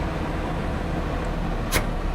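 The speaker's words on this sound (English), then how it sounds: "Start up my vehicle." An automated refuse truck engine runs as a dense, steady low rumble with a brief sharp click near the end, close by and without talk.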